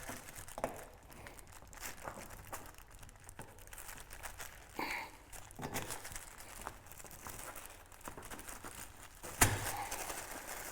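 A plastic bag crinkles and rustles in quick, irregular bursts close by as it is fitted over the cage of a 2019-2025 Honda Talon, with a sharper crackle near the end; no one speaks.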